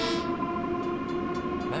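A Long Island Rail Road train running in Train Sim World 4, a steady loud rumble with sustained tonal drone and hum throughout, close and continuous with no talk.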